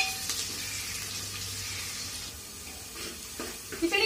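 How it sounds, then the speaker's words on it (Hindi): Green chilies for khichdi frying in a pan, giving a steady soft sizzle throughout with a few faint stirring clinks near the end. "इनको भी फ्राई कर लेंगे हम।"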